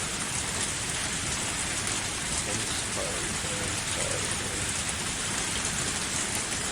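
A torrential downpour of rain, a dense, even roar of heavy rainfall that holds steady throughout with no breaks.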